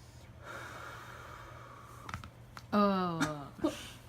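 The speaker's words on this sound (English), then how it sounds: "All right, deep breath in." Patient drawing a deep breath in during a chiropractic adjustment, a soft rising inhale followed by a brief vocal sound and a snort-like exhale, close by over a steady low hum.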